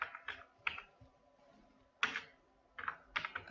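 Typing on a computer keyboard while filling in a Google Sheets attendance sheet: quiet, close-up bursts of quick key clicks separated by short pauses, with no talking.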